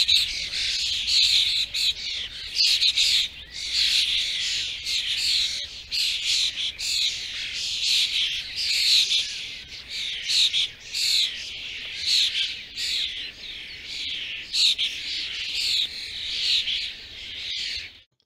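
A starling sings nearby in a continuous stream of squawks, chirps and whistled phrases, loud and with no other sound.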